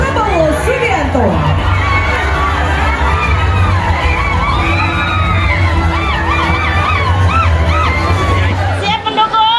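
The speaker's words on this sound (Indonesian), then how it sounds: "Berikan tepuk tangan yang sangat meriah kepada Menteri Pertahanan Republik Indonesia, Bapak Prabowo Subianto." A large crowd at an Indonesian political rally for the defence minister cheers, whoops and yells continuously, a loud dense roar of many voices with shouting rising over it throughout.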